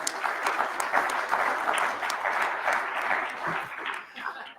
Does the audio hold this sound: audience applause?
yes